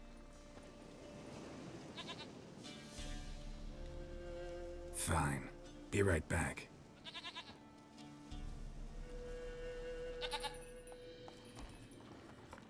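A goat in The Witcher 3 video game bleats in several loud, wavering cries near the middle, set against soft game music, with brief speech before and after.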